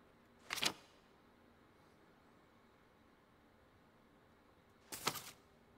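A Carcano bolt-action rifle in Red Dead Redemption 2 is worked twice, each a short sharp mechanical clack about four seconds apart, crisp and close against near silence.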